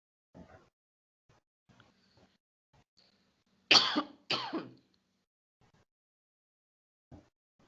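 Two sharp coughs close to the microphone, one right after the other, in an otherwise quiet room with faint, scattered background sounds.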